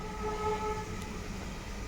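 Pressure cooker whistling while cooking chana dal (kadalai paruppu) for halwa, a steady loud hiss with faint tonal whistle lines over broadband steam noise, alone with no voices.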